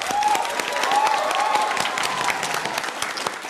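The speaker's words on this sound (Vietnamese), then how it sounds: "vỗ tay to cho bạn Hùng" Audience applause breaks out for a contestant on a Vietnamese word-game show, a dense, steady burst of clapping from a studio crowd holding at full strength throughout, with a faint tonal whistle-like sound early on.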